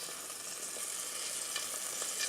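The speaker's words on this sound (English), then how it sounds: "So it sounds like it's frying now." Fried green tomatoes crackle in an air fryer with a steady, faint, hissing sizzle and a fan-like whoosh underneath, continuous without a break.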